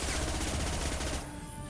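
Rapid gunfire from the video game Mass Effect 2, a dense, loud burst of automatic shots that cuts off abruptly, leaving a softer game ambience behind.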